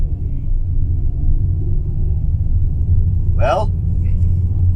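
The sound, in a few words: Mitsubishi Xpander car on test drive after ECU remap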